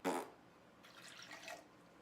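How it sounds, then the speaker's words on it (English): Half a cup of warm water is poured into a mixing bowl for khachapuri bread dough, a quiet splash at the start followed by faint trickling and dribbling. "So next I'm putting in half a cup of warm water."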